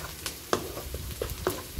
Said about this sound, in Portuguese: Minha mãe acabou de colocar 5 dentes de alho aqui dentro pra fritar junto com a cebola.